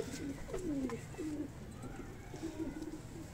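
A large breeder pigeon coos in several low, rolling phrases, fairly close, over a steady background hum.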